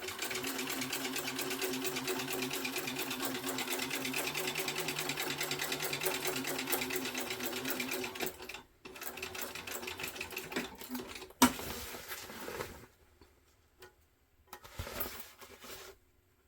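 A sewing machine stitches a backpack panel in a long, fast, continuous whir of needle strokes, then stops and restarts in short bursts with pauses of quiet between them; no voices.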